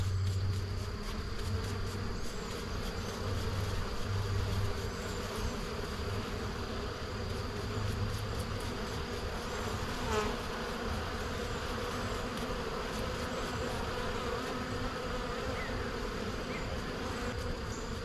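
Dense, continuous buzzing of many bees around a hive frame being brushed off, close and steady throughout, with no voices.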